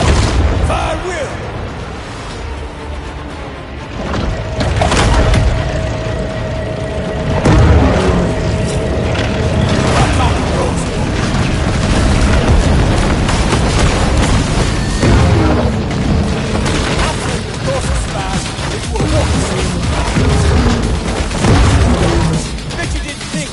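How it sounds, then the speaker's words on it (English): Deep booms and rumbling blasts from torpedo explosions in the Maneater video game roll on continuously, heavy and loud, with layered crashes, while a voice talks over them. "Bet you didn't think I had torpedoes."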